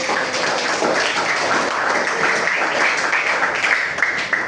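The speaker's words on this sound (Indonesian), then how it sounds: "Kita beri tepuk tangan untuk Ajis dan Tadi." Students in a classroom clap for two classmates, a steady, loud burst of many hands pattering continuously at close range, with faint voices mixed underneath.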